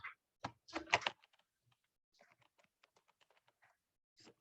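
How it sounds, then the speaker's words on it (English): Keys tapping on a computer keyboard as a date is entered, a quick burst of loud strokes followed by lighter scattered taps and a final short cluster, close to the microphone with no talking. "So I'm going to type the date, September"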